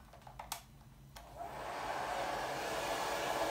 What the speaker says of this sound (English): hairdryer is gently blowing his hair dry